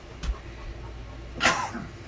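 A single sharp sneeze at close range indoors, short and loud, preceded by a faint soft thump against a quiet room background.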